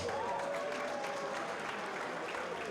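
A crowd at a junior combat fight event applauds both fighters after the bout, with dense, steady clapping and a few cheers filling the hall from start to finish.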